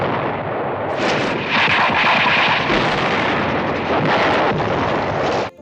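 Cannon fire blasting and destroying a Japanese bunker in a war film, a loud, continuous roar of booming explosions and rumbling debris with no pause.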